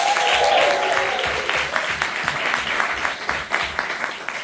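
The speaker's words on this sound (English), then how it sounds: "let's give them a round of applause as well." A crowd at a Q&A event gives the project team a round of applause, dense and loud at first, then thinning out toward the end, with a low background murmur.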